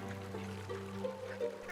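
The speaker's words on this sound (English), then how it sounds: "a gaggle of silly honking geese" A gaggle of silly cartoon geese in an animated story gives a few short, nasal honks and quacks over a steady tonal background, close and fairly quiet.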